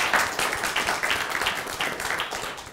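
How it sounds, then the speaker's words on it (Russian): A studio audience at a university discussion club broadcast gives a sustained round of applause, steady and fairly close, with no talking over it. "Спасибо вам большое за аплодисменты"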